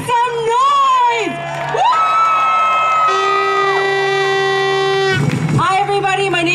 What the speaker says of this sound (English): Sunnyside, make some noise!